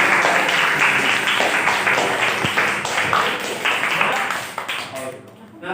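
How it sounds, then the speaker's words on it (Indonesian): Classroom applause for the top-scoring students fills the room, a dense, steady patter of many hands clapping close by, tapering off near the end, with voices mixed underneath. "Kasih tepuk tangan untuk teman-temannya ya."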